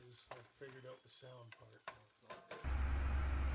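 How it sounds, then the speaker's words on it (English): Broccoli cheddar soup is stirred in a pot, with soft scraping strokes of a spoon repeating close by before a louder, steady wash of sound takes over near the end. "you want to bring it up to temperature and you want to stir it"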